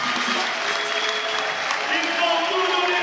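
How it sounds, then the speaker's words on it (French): Spectators applaud at a roller hockey match between Benfica and Dinan, a steady wash of clapping filling the arena while a commentator talks over it. "Et voilà, ils applaudissent, ils l'ont bien mérité."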